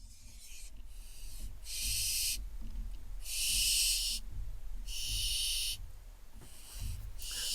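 Hungry barn owl chicks crowded on a nest platform, calling for food with loud, harsh, rasping hisses in long bursts of about a second, repeated over a low background rumble.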